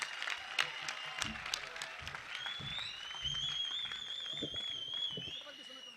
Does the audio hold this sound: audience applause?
yes